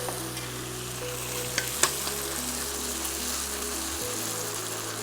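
Pulled Oats with teriyaki and sweet chili sauce sizzling in a hot pan, a steady close frying hiss with a few sharp stirring knocks and scrapes, no talking.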